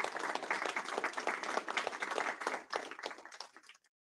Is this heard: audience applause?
yes